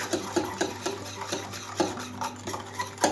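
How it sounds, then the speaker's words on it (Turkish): A spoon scrapes and knocks rhythmically around a pot while flour is stirred into a cloud cake pudding mixture, with steady close strokes and no talking. "Karıştırarak"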